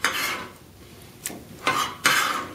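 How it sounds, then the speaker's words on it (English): Coarse tomato chunks tumbling into a bowl while making salsa, several soft thuds and rustles in separate bursts, close and clear with no talking. "we're putting our last tomato in the bowl"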